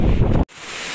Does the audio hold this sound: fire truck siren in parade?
no